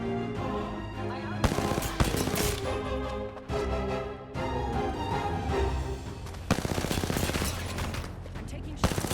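Rapid gunfire in a shooting video game comes in dense, loud bursts, with sharp repeated shots and brief lulls between volleys.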